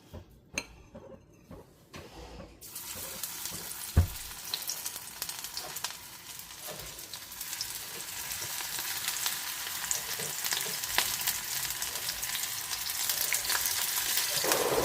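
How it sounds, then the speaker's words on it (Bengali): Marinated baby corn, coated with black pepper, frying in a little oil in a pan: quiet at first with a single clink, then a dense sizzle starts and grows steadily louder, crackling on its own without voices. "বাট আমি একটু অল্প তেলেই ভাজছি"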